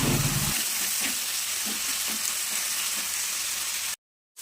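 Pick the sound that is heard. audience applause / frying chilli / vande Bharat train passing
frying chilli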